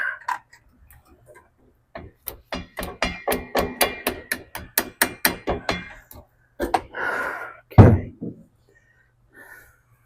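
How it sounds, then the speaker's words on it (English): A hammer smacks the head of a car U-joint on a Hudson Hornet, a rapid series of about a dozen sharp metallic strikes in an even rhythm, with a few more knocks and brief sounds after. "smack the head of this joint with something metallic, preferably a hammer"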